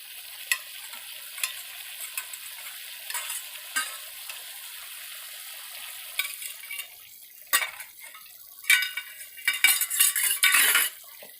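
Spice masala frying in a pan while a spoon stirs and scrapes it, with soft steady sizzle under repeated clinks and scrapes that grow busier and louder toward the end; no voices.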